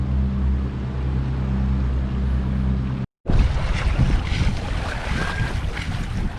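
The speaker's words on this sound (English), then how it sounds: "We're having to give the engine full power to get through." A sailboat's engine runs at full power while motoring through a narrow channel off Maine, giving a steady, loud low drone. After a brief cut, gusty wind and water noise dominate.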